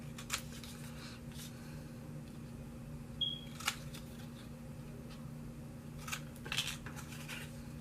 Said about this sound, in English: what I'm going to do is just snip these corners off, leaving just a little bit where the tip is